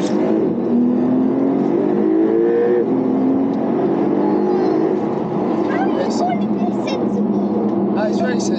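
Porsche accelerating on the road with engine note rising and dropping through smooth gear changes, heard from inside the car at moderate level, with people talking over it.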